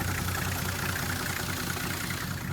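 The six-cylinder engine of a Nissan C33 Laurel Medalist idles steadily with a quiet, even exhaust note and low hum, heard close and continuous.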